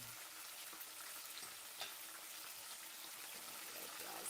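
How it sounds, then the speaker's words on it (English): Shrimp lumpia fry in hot oil in a home kitchen with a faint, steady sizzle and crackle, plus an occasional soft pop or stir. "there's actual frying happening in this kitchen"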